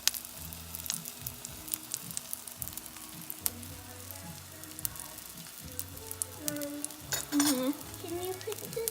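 A cauliflower patty about 3/8 inch thick fries in a pan for a keto grilled cheese, giving a steady soft sizzle with light clinks of utensils and a brief louder crackle near the end.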